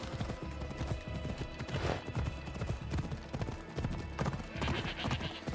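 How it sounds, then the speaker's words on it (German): Horse hooves clip-clop at a fast gallop in the Assassin's Creed Odyssey video game, a steady pounding rhythm layered over game ambience and music, fairly quiet overall. "Dann reiten wir mal querbeet."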